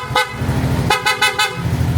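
PIAA horn fitted to a Yamaha Aerox motorcycle, sounding one short toot and then a quick burst of three more in a row, loud and close over a low idling rumble.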